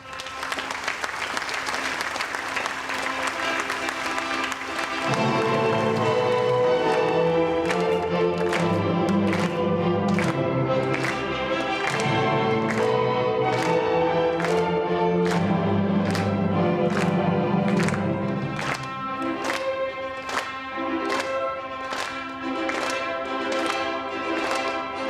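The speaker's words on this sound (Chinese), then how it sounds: "让我们掌声有请新郎新娘" Applause greets a bride and groom at a wedding, a dense, steady clapping that swells and holds over music with rhythmic beats running underneath throughout.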